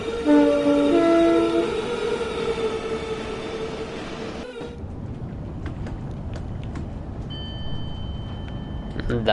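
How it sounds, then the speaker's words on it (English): Cab-ride ambience in a Train Sim World 4 electric train on the Channel Tunnel Rail Link, with a sustained multi-tone warning sounding over steady rumble that stops abruptly, leaving running noise and faint clicks. "That is the AWS. Sounds a bit different to the generic, but that's what it is."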